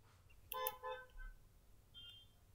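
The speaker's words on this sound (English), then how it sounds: "Honk." A car horn outside sounds a couple of short, distant toots, faint and muffled in an otherwise quiet room.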